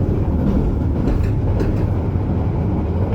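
Steady rumble of the Jaka Tingkir economy passenger train moving fast, near its 99 km/h top speed, a continuous low roar with faint rhythmic rattling of the carriages, heard from inside.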